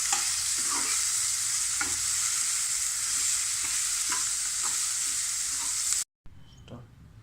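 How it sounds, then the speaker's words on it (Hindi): Vegetable noodles with red chili and black pepper stir-frying in a pan, a steady loud sizzle with intermittent scraping stirs, ending abruptly in a short quieter tail. "और इसे हम भूनेंगे।"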